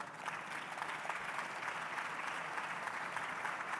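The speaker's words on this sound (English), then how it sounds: "Round of applause." Audience applause at the New York Forum Africa 2015 panel session, a fairly quiet but continuous patter of many hands clapping steadily from start to finish.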